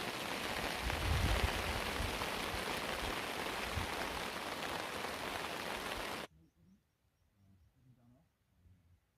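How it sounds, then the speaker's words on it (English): Steady, dense rain hisses down at a wild camp beside Stickle Tarn in the Lake District, loud and continuous for about six seconds before cutting off, leaving quiet with faint voices. "Lovely, the sound of rain."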